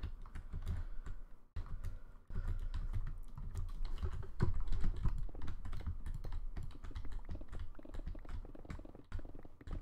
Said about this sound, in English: because my keyboard I feel like is loud as shit